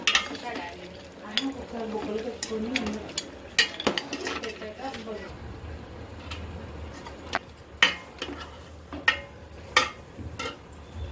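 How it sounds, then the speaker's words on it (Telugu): Ginger garlic paste being mixed into goat head curry in a pan, with repeated close scraping and clinking of a spoon against metal and a faint sizzle, under a voice talking. "ఇప్పుడు మొత్తం కలిపేసుకోవాలి"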